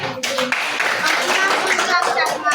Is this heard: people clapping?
yes